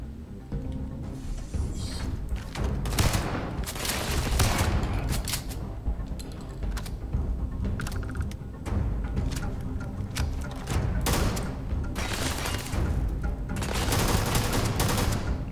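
Rapid bursts of gunfire from a firearm in Starfield fill the whole stretch, loud volleys of repeated shots with brief gaps between bursts and no talk over them.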